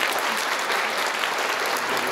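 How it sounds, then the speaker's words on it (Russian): Continuous audience applause at a centenary celebration for a music school, an even wash of clapping heard from within the hall for the whole short stretch. "Я думаю, это достойно аплодисментов"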